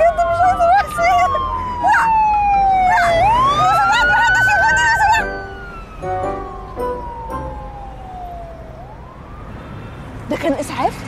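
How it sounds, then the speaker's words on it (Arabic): A loud ambulance siren wails in long rising and falling sweeps, strong at first and then dropping to a quieter, more distant tone before sharp noises near the end. "ما هو سرنت الاسعاف زي سرنت البوليس، المفروض يميزوهم"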